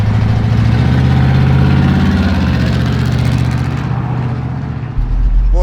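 A 1967 Pontiac Tempest V8 engine running, a loud deep rumbling burble heard from close by, steady with slight rises in revs and no talking.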